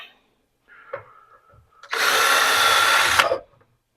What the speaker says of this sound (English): I want to drill a couple of plug weld holes in this also.